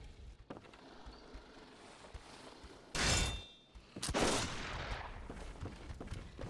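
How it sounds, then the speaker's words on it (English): Game gunfire in Bloodborne, with a machine gun opening up: broadband bursts of shots, a loud burst near the three-second mark and another sustained stretch after four seconds, over a low background rumble. "Yeah, that was a machine gun."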